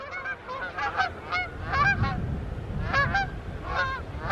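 Several geese honk in scattered bursts, fairly close, with a low rumbling background underneath.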